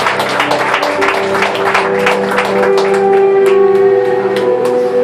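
A church congregation claps together during a worship service, a steady run of hand claps with a sustained musical tone underneath, fairly close and loud throughout.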